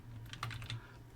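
A few quick keystrokes on a computer keyboard typing into a web browser's address bar, short close clicks in a brief burst, quiet and alone.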